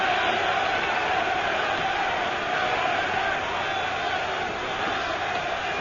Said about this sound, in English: Tremendous German crowd here, ready to cheer this man on to victory if they can.